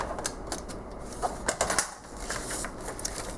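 Paper is cut for a pocket page, with soft, close snips and rustles in an irregular rhythm, faint and unaccompanied by talk.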